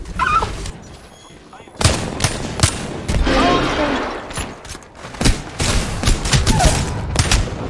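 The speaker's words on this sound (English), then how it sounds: "Dude, I'm getting shot around walls." Rapid bursts of gunfire crackle through a first-person shooter match as Octane, loud and close with uneven pauses between volleys, while a player talks in between.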